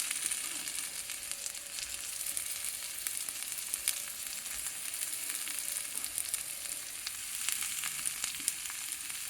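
Cauliflower and potatoes fry in a pan for a vegetable curry, a steady dense sizzle with small crackles and pops throughout, close and continuous, no voices.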